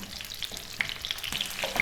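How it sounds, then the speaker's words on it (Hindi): Sliced onion frying in a pan until soft, a soft continuous crackling sizzle with scattered small pops and stirring scrapes, close and moderately quiet, with no speech. "इसमें हम शामिल करेंगे 1 अदद प्याज को हमने यहाँ पर गोल्डन कर देना है।"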